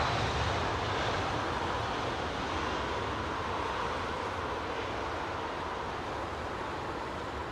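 A TAP Airbus A319 airliner at London Heathrow Airport makes a steady, broad jet roar that holds evenly throughout, moderately distant and with no voices over it.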